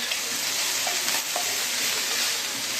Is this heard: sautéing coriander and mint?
yes